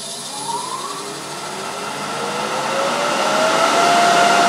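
An Axminster AT508WL wood lathe starts up and spins up to full speed on its middle belt, a steady whirring hum with a rising tone that grows slightly louder as it accelerates.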